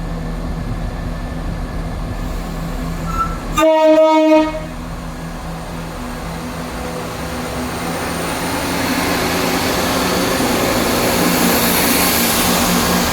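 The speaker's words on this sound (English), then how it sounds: "Departing out now is the 1158 Scotrail service from Edinburgh Waverley to Cowdenbeath." A ScotRail train pulls out of Edinburgh Gateway station, sounding a brief two-tone horn blast amid steady outdoor rumble that swells gradually as the train rolls away.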